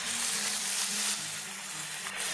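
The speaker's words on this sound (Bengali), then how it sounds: "2 কাপ জল দিয়ে দিলাম" Rice for vegetable pulao sizzles loudly as water is poured into the hot frying pan, a dense continuous hiss and crackle heard alone for a couple of seconds.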